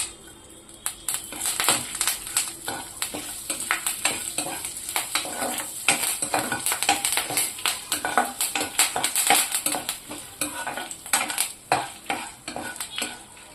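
Cumin, chana dal, curry leaves and dried red chillies fry in hot oil as a tempering for horse gram chutney (ulavala pachadi). A steady close sizzle runs throughout, broken by repeated spoon scrapes and stirring clatter, with no talking.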